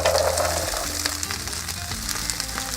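Chopped celery sizzling in olive oil in a frying pan, a bright continuous crackle that settles slightly after the first moment, with no talking.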